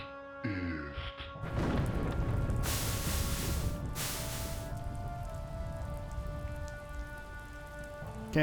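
Steady rain pours down after a spell is cast in a fantasy video game, a dense hissing wash that holds for the whole stretch, with two brighter, louder bursts of splashing in the middle.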